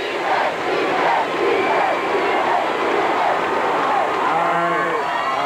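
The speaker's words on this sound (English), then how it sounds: "Getting a big round of applause and chanting." A large crowd of sports fans cheers and chants at an event, a continuous roar with rhythmic vocal chanting and some clapping, steady and fairly loud throughout.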